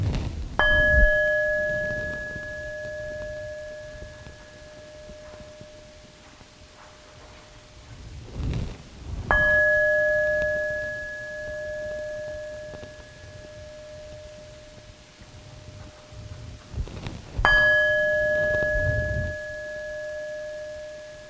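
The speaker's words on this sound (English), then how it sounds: "hearing the sound of the bell" A worship bell at a church service rings three times, each clear, sustained strike left to fade for several seconds before the next, with faint room noise between strikes.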